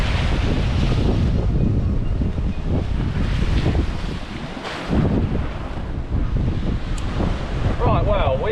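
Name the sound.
strong gusting wind at a seaside marina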